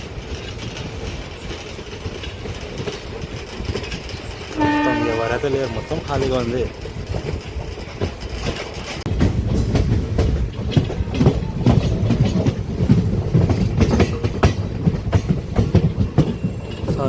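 A MEMU local train runs near a railway station platform, its rumble and rhythmic clatter building louder in the second half while a person talks over it nearby.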